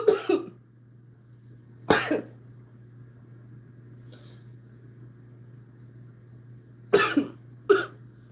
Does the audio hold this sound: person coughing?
yes